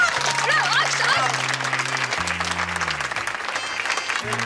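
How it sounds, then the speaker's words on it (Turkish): An office group applauds a colleague, a continuous ripple of clapping laid over soft background music, while a voice speaks over part of it. "Bravo. Alkışlayın."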